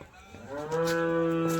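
A single cow moos close by, a long rising low call that swells and holds steady for over a second, heard alone without talk.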